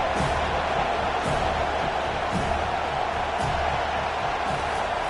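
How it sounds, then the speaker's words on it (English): A stadium crowd at a football game roars steadily on third down, a dense continuous wall of cheering and noise throughout. "Decibels rising as the crowd gets behind this defense on 3rd down."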